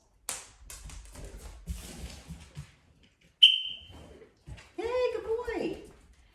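A single sharp, high dog training whistle blast for recall cuts in between stretches of talking, short and clear, followed by more voices.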